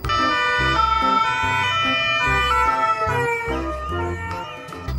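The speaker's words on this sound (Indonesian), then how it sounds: "lihat ini teman-teman, ada mobil ambulan" A toy ambulance siren wails continuously in a looping electronic pattern, loud and close, with a steady rhythmic pulse beneath it and no talking.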